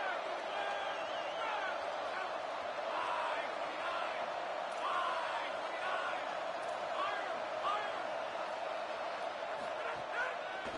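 A packed stadium crowd roars ahead of a big third down in the NCAA 26 college football video game, a dense, steady wall of cheering and shouting that stays loud and close for the whole stretch with no break.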